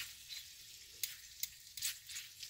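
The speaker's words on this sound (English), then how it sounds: "If I just let it fry real hard without moving them around" Bacon sizzling hard in a freshly re-seasoned Levco cast iron skillet, a steady close hiss of frying fat with occasional sharp pops and crackles and faint stirring scrapes.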